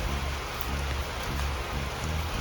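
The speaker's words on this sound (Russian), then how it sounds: "Дождь, целый год дождь." Steady rain pours down outdoors in a continuous dense hiss with a low rumble beneath, unbroken and fairly loud throughout.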